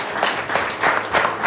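Applause from participants and guests at a live event, a dense steady patter of many hands clapping together in short swelling waves, with a faint voice underneath.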